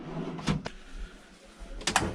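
Two short wooden sliding-and-knock sounds, one near the start and another near the end, like a drawer being pulled open and pushed shut aboard a Cranchi Settantotto yacht, close by and fairly quiet.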